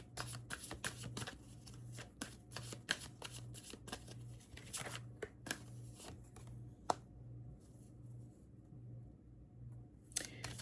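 Oracle cards being shuffled by hand, rapid close riffling and slapping bursts in an uneven rhythm, quiet overall, with a pause of near silence before a final flurry.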